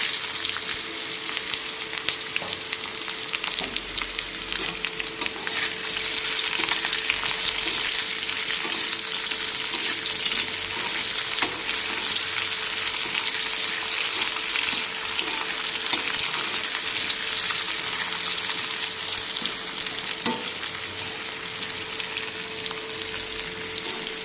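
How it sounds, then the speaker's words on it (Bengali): Mustard seeds splutter in hot oil in a pan as a dense, continuous sizzling crackle, loud and close, with scattered sharper pops and no voices. "আমি দিয়ে দেবো সর্ষেগুলো, চটপট করে ফুটে গেছে।"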